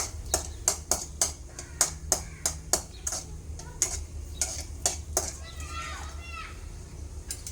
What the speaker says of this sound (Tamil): நெய் போட்டு கொஞ்சம் முந்திரி பருப்பு எடுத்து அதில் போட்டுருவோம்